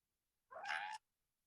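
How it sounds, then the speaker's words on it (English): A single close, clear cat meow lasting about half a second against near silence. "I can hear some cats"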